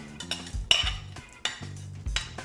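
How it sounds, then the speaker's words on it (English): Chopped frozen green pepper and onion tumbling into a soup pot, with a few clattering knocks and scrapes of a utensil against the pot in an uneven rhythm, close up and without speech. "we are gonna add 2 cups of chopped green pepper and onion. So we're gonna throw that in here."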